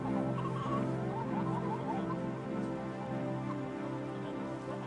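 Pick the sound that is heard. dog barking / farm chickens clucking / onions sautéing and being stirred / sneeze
farm chickens clucking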